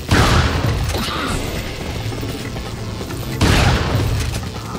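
A shotgun fired in Resident Evil 4, two heavy booming blasts about three seconds apart, each with a long rumbling tail and mechanical clatter between.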